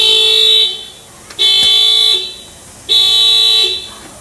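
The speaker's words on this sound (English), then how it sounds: "Okay, I'm going to go ahead and bang in the glass real quick." Honda car alarm set off by its glass break sensor, blaring in three loud sustained horn-like bursts separated by short gaps, with a sharp knock just before the second burst.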